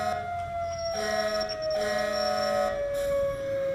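A fire engine siren in the emergency driving game EmergeNYC wails steadily with a sustained high tone, loud and continuous, with no voices over it.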